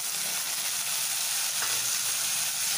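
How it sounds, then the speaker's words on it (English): Chopped tomatoes sizzling in a pan over fried onions for a fish head curry, a dense, even hiss of frying that holds steady and close with no talk. "Now that the onions are nicely fried, I'll drop in my tomatoes that we chopped."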